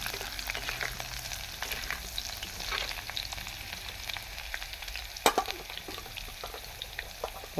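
Onion and crushed garlic sauté in a clay pot over a wood-fired stove, a continuous close sizzle with intermittent scraping stirs and one sharp knock partway through.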